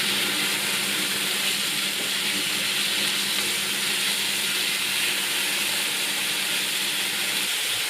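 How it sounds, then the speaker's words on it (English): Beef strips sear in very hot oil in a pan, giving a steady, hissing sizzle that stays even and fairly loud with no talking. "Get that really hot and then put the beef in."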